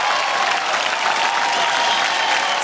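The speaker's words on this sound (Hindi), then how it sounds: "एक बार जोरदार तालियों से स्वागत करिए" A studio audience on a TV show applauds steadily to welcome guests, dense sustained clapping with crowd noise throughout, loud and continuous.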